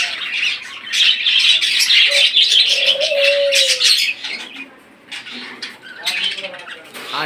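Caged birds at a bird shop, including Australian diamond doves, fill the air with busy chirps, squawks and soft coos, close and fairly loud, with a few longer tonal calls rising over the chatter.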